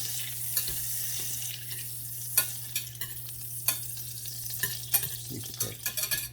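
Praline sauce ingredients melting in a hot pan, with a continuous sizzle and fry broken by scraping stir strokes and small clinks, close and busy, with a low steady hum underneath.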